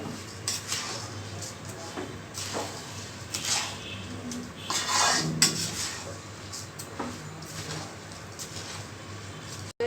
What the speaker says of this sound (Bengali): এখন এগুলি মিক্স করে নিব ভালো করে।